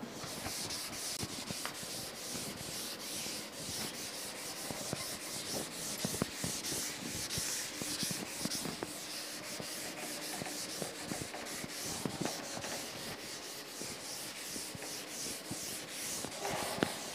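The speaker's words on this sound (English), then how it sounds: "Okay, so let me erase this." Steady, continuous rubbing of an eraser across a classroom board, soft and close, running without a break and with no talking.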